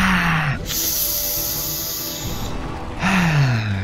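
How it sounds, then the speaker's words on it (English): A person yawning, with long breathy exhalations and a falling voiced groan at the start and again near the end, with airy breath sounds in between, close and fairly loud. "Yawning like crazy."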